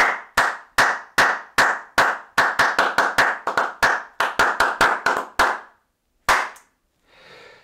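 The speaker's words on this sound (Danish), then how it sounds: "Vi klapper lige." About twenty sharp hand claps in a room with poor acoustics, each followed by a short reverberant tail. The claps come fairly close, first spaced out, then in a quicker burst, and after a pause one last clap is followed by faint noise.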